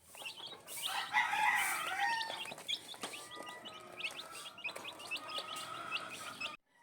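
Chickens, brooding hens and small chicks kept for breeding fill the clip with a loud, busy mix of clucking, crowing and high peeping chirps that carries on throughout before stopping abruptly.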